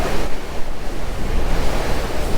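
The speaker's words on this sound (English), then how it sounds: "Look at that wake streaming out behind." Wake water rushes steadily behind the Wally Why 200 yacht, whose semi-displacement hull is driven by a combined 4,000 horsepower, a broad continuous wash of churning surf mixed with wind buffeting the microphone.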